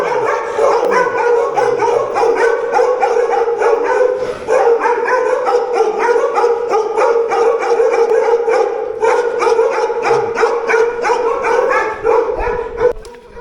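Ladakhi dogs in a mountain village bark repeatedly in quick overlapping bursts, loud and close, with some yipping and howling mixed in over a steady background hum, no talking.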